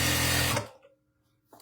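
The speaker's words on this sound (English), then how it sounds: "So then I'm going to sew it down as far as I can reach." A sewing machine runs loud and steady, stitching down a pleat folded in toweling fabric, then stops abruptly; a faint mechanical hum lingers before a short burst of handling noise.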